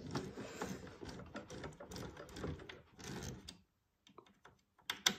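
Small parts are screwed onto the headlight of a Nissan Skyline GTR model kit, close, faint ticking and scraping clicks in a busy run that stops, followed by scattered light taps and a brief clatter at the end.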